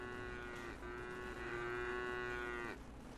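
Cows moo without a break in the video game Craftopia: long, drawn-out lowing calls that overlap and run together across the whole stretch, loud and close, with no talking.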